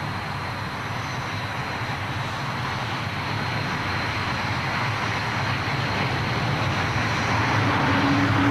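An aircraft taking off from runway 23 gives a broad, continuous roar that slowly builds louder, with no voices over it.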